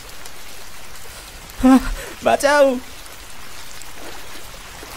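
Cartoon rain falls at night as a steady, soft patter throughout, briefly covered by a voice shouting in fright.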